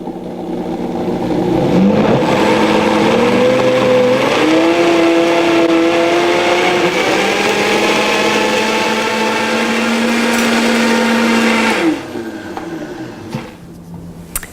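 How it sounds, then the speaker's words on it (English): A blender whirs loudly and steadily for about twelve seconds, its motor pitch rising slightly as a healthy chocolate mousse with cocoa and spice turns silky smooth, then winds down and stops. "now I'm going to blend those together again until it's silky smooth"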